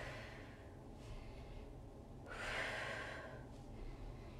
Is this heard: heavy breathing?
yes